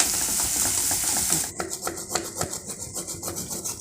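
Homemade paneer is grated into a pan: a soft continuous rasp first, then a run of quick, evenly spaced scraping strokes, close and fairly quiet, with no voices.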